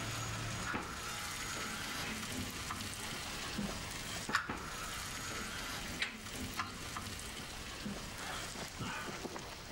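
Food fries in an old frying pan, a continuous close hiss and crackle with occasional stirring clicks and scrapes, steady throughout.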